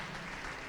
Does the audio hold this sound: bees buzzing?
no